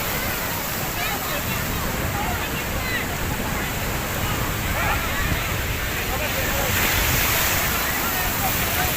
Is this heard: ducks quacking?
no